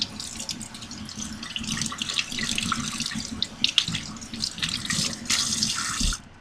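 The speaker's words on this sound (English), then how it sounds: "So I rinse it" Tap water runs over canned black beans in a strainer at a kitchen sink, a steady close splashing hiss with shifting spatter as the beans are rinsed.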